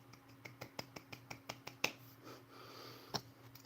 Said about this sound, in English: I guess you could say proper theater clapping